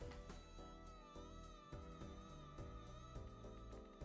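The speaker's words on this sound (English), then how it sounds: "Squeaking cat." A cat squeaks and meows in short repeated calls over steady game music, the small cries faint and close.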